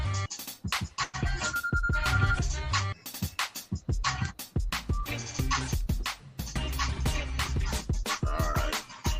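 A phone ringtone for an incoming call from a brother plays loud and continuous, its repeating melodic pattern dense with scratchy, clipped tones throughout.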